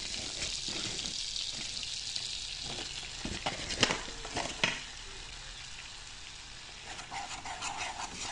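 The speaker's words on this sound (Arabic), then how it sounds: "دوك نخلي كامل هذه الزبده تذوب" Butter melts in a pan with a soft, steady sizzle and light crackle throughout, plus a few louder clicks and scrapes near the middle, with no talking.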